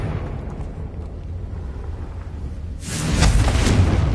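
A Confringo blasting spell bursts in Hogwarts Legacy, a loud rumbling explosion rising out of a low ambient drone near the end, heard alone without any voices.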